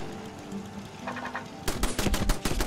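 A player's own camp turret firing in Fallout 76, starting as a faint light rattle and then breaking into a louder rapid burst of automatic shots.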